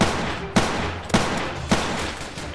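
Three evenly spaced pump shotgun blasts in the Roblox game Notruf Hamburg, each a sharp loud crack followed by a short decaying tail, with no one speaking.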